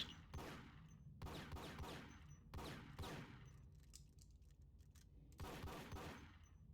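Repeated bursts of rapid gunfire in Max Payne as mice are shot, four loud volleys separated by brief pauses with a faint ambient tail between them.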